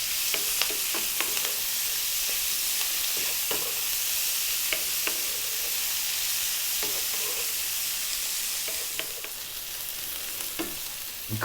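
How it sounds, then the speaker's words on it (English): Sliced onion fries over high heat in a pan, a constant loud sizzle broken by scattered scraping clicks from stirring and a slight drop in intensity near the end, with no speech. "And then we're going to drop in our sliced onion. And again, we're on quite a high heat, above medium heat."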